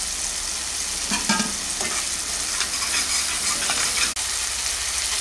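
Spice masala sizzles loudly in oil in a pan for a brinjal curry, a dense continuous hiss with a few stirring scrapes, cutting off abruptly near the end.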